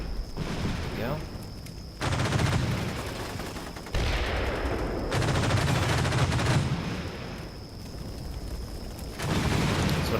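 Sustained bursts of automatic gunfire and heavy weapons pound a building in Combat Mission: Shock Force 2, loud fusillades in several long volleys separated by brief lulls.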